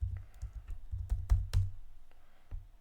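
Keys clatter on a computer keyboard as an amount is entered, a quick irregular burst of soft clicks and taps, close and fairly quiet, trailing off into a few isolated presses.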